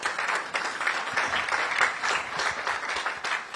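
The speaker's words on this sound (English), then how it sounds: "Give her a round of applause, please." Applause for Professor Justice Henrietta Mensah Bonsu at the NSMQ 2023 national championship launch in Ghana: steady, dense clapping from a large audience, sustained at an even level throughout.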